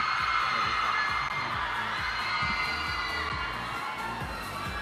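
Fans scream continuously at a charity auction event, a dense high-pitched crowd roar that stays loud and sustained throughout, with faint voices underneath.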